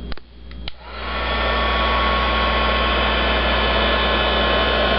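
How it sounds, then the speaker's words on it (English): A heat gun melting UTEE embossing powder on a flower: after a couple of short clicks, a loud, steady blowing roar starts and continues close up, with no talking. "I'm just going to take my heat gun and I'm going to melt it"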